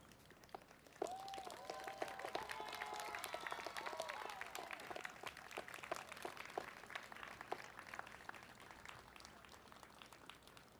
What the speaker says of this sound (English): applaud all the people who've helped get you to this point